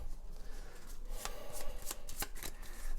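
Cards from the Oath board game deck riffled and shuffled by hand in a run of soft, quick, papery flutters, close and steady, with no talking.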